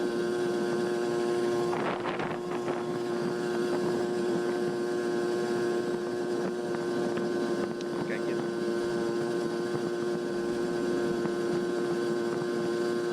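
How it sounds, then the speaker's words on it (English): A 1981 Honda Express NC50 moped fitted with an SHA carburetor drones steadily while being ridden slightly downhill, its two-stroke engine buzzing with a strong constant pitch, close and loud under brief wind. "for some reason it's not 4-stroking here, even though we're going slightly downhill"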